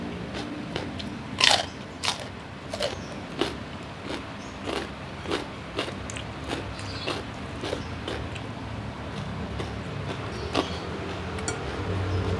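Close, crisp crunching bites and chewing of winged beans (kecipir) eaten as part of a simple meal, about a dozen evenly spaced crunches against quiet background, with no talking.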